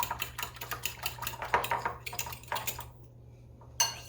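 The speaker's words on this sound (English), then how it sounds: "You just beat this until it gets well blended." A lemon meringue pie mixture is beaten in a bowl: rapid, uneven clinks and taps of a utensil against the bowl, fairly close and quiet, with no talking, fading to near silence before one last tap.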